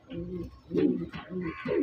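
Large pigeons from Gopalganj coo in a short series of low, throaty phrases, close and moderately loud, with faint chirps above.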